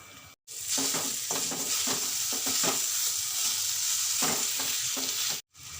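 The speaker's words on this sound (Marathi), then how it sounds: "आता ही केरी टाकून द्यायची त्यामध्ये" Loud steady sizzling and frying as raw mango is added to a hot pan with turmeric and red chilli, with stirring scrapes throughout, broken by two brief silences.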